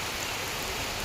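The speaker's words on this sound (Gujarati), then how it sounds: "મિત્રો જો જટાશંકર આવી ગયા છે ને વરસાદ ચાલુ છે." Rain falling in the Jatashankar forest near Junagadh, a brief, soft and even hiss of drops with no voices.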